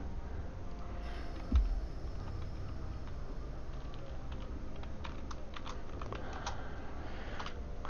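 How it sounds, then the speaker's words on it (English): Steady quiet typing on a computer keyboard during a gaming session, a continuous run of small close clicks with a few bursts of faster keystrokes and one dull thump early on. "I'm having trouble typing, which is the reason why I usually use mouse and keyboard"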